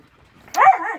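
Laika dog giving a single short bark, close and moderately loud, after near silence.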